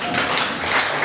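A church congregation gives a short burst of applause during a sermon, a dense wash of clapping from the crowd, brief and fairly loud.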